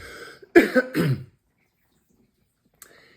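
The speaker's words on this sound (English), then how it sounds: "Sorry, I've got a cough here today." Two or three harsh, close coughs in quick succession, then quiet.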